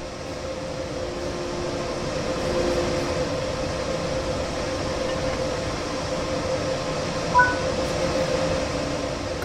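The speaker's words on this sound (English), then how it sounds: "The locomotive must now be uncoupled from the wagons." Train Sim World 3 locomotive on the Rhein-Ruhr Osten route uncoupling from its wagons: a steady rail and engine rumble with a faint hum, plus a short clunk near the end, no talk.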